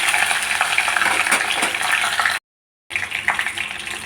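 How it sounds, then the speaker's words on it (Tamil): Vadagam frying in hot oil with curry leaves and garlic added, a loud, steady sizzle and crackle that cuts out briefly to silence before resuming. "இப்போ கருவேப்பிலை சேர்த்துக்கலாம். இப்போ பூண்டு போட்டுக்கலாம்."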